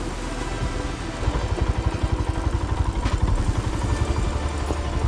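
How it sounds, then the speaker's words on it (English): Motorcycle engine braking on a steep hill climb near Bangalore: a loud, close, throbbing low engine note with rapid pulsing firing beats that strengthen partway through, plus some clatter and no talk. "Engine braking comes real handy here."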